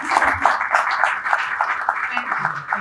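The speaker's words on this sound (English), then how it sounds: "Please give Rolake a resounding applause." A conference audience at a strategic finance summit claps steadily for a panelist, a dense, even patter of many hands that holds for several seconds at moderate loudness.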